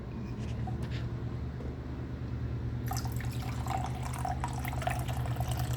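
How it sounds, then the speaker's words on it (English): Hot drip coffee from a Cuisinart Burr & Brew Grind 2 stainless steel coffee maker pours into a large mug, a steady liquid trickle over a constant low machine hum, with no talk. "Let's pour some coffee into the"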